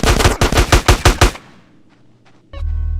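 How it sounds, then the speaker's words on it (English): Automatic gunfire in the video game GTA San Andreas, a loud close burst of about eight rapid shots that cuts off into a fading echo, followed by a few faint clicks and a steady low engine-like drone. "Give me some fucking covering fire!"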